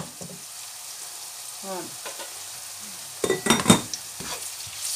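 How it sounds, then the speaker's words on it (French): Sweet potato leaves simmering in broth in a pot are stirred, giving a soft steady sizzle and bubbling with a burst of utensil scraping and clinks near the end; a voice speaks briefly. "Je mélange un peu et je laisse bouillir."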